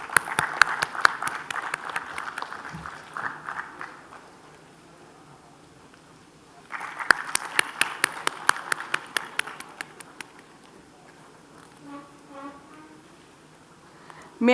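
Conference audience at a stock market event in Ahmedabad giving a round of applause, a dense burst of hand claps that fades, then a second strong wave of clapping that tapers off into quieter room sound.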